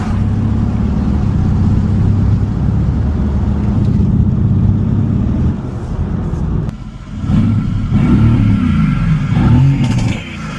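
A Mercedes-AMG GT S with upgraded VRP 1000 turbochargers runs at a loud, steady engine drone with rising turbo spool and revving surges, briefly dipping midway before building again.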